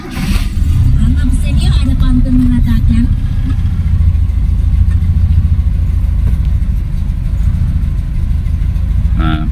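A 1992 Toyota Kijang Super Montana engine runs steadily at close range, a continuous low mechanical rumble holding for the whole stretch with a few brief higher clatters early on and no clear start-up burst.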